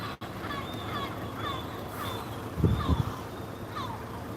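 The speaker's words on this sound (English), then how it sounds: "Just the sound of seagulls." Gulls call again and again in short, wavering cries over a steady background hum, with a brief low rumble partway through.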